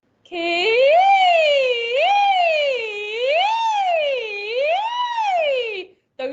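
A voice imitates a broken police siren with a wavering, rising and falling wail that wobbles unevenly, sustained for several seconds before breaking off.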